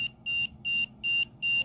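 An EMF meter beeps in an alarm, set off by a nearby phone: five loud, evenly spaced shrill tones, each about a quarter second long with short gaps between, close up and alone.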